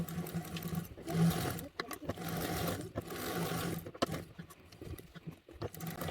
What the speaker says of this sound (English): you're literally just basting the two pieces together